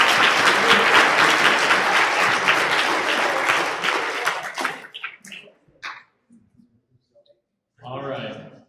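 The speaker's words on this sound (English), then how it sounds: "you got extra applause for him for that" An audience at a university research symposium applauds loudly and steadily as a People's Choice Award winner is announced. The clapping fades after several seconds, and a few voices follow.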